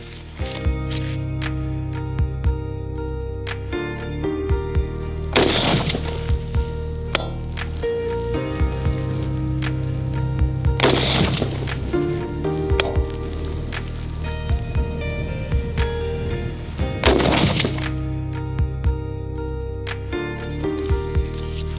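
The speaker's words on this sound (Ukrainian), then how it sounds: "Дистанція 25 метрів, три постріли." Three rifle shots, 62-grain rounds fired at 25 metres with MBUS 3 iron sights, crack out sharply at roughly even intervals several seconds apart over a busy background.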